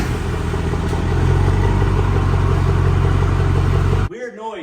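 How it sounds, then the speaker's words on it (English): Steady mechanical rumble and clatter from a Duramax truck, with a backing plate rubbing, running loud and continuous for about four seconds before cutting off abruptly into a brief close voice. "Weird noise. I don't know what that is. I think it's a backing plate rubbing."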